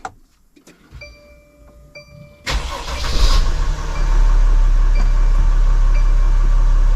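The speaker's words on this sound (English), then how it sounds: "All right, let's start the engine." A Mercedes Sprinter van, just fitted with a new EGR valve, starts up. Faint dashboard chimes and clicks come first, then the starter cranks briefly and the diesel catches, settling into a loud, steady idle close by.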